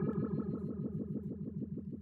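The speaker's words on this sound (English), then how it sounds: "the phaser is an 8-stage phaser. Which can get real wonky." An 8-stage phaser guitar effect sweeps a steady sustained chord in fast, regular whooshing cycles, loud and continuous, with a wonky swirling modulation and no voices.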